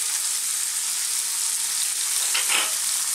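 Onions and garlic ginger paste sizzle and fry steadily in a hot pan for a seafood fish curry, a close, continuous crackling hiss with a brief louder burst of stirring near the end.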